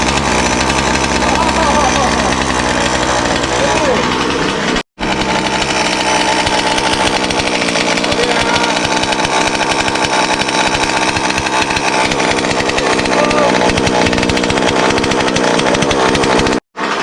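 A small 45cc gasoline engine on a Rovan RC car, being broken in, roars continuously at high revs, loud and close, with two brief cut-outs along the way.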